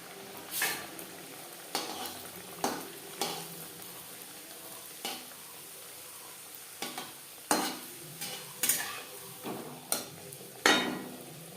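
Chana dal kachori frying in hot oil, a steady sizzle broken by repeated sharp bursts and scrapes as the pieces are stirred and turned, close and fairly quiet with no talk.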